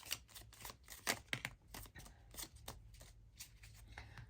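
Tarot cards shuffled by hand at close range, a quiet run of soft riffling flicks and slaps in quick uneven bursts, with no talking.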